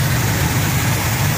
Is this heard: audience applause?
no